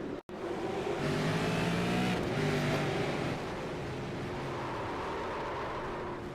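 Race cars in the iRacing simulator at Oxford: several engines roar and rev together at close range, a steady high-pitched drone that surges briefly then settles into a slightly quieter sustained whine.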